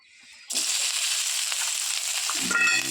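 Onion dropped into hot oil erupts in an abrupt, loud sizzle after a quiet start, then sputters steadily for a couple of seconds.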